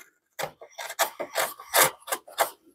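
A hand plane shaves end grain wood in a series of short, rasping strokes, close and distinct, with brief pauses between passes.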